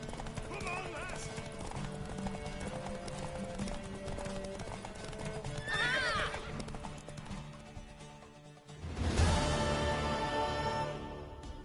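In a video game, hooves clip-clop rhythmically while a horse neighs loudly twice, with voices talking over parts of it.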